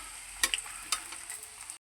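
Pieces of raw green banana fry in hot oil, a steady bright sizzle with scattered pops and crackles, close and continuous before cutting off abruptly near the end.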